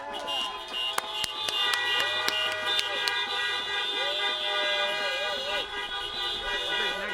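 Car horns honk in congratulations at an outdoor high school graduation. Several short toots and longer blasts overlap over steady crowd noise, with voices talking and cheering throughout.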